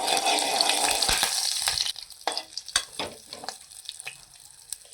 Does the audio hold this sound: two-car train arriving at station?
no